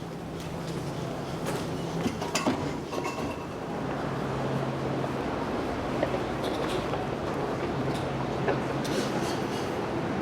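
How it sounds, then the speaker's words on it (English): An LA Metro train waits at the new airport station on the K and C lines, with a quiet steady hum, a brief sliding-door clatter and scattered platform noises under faint ambience. "Looks like we got a train waiting for us."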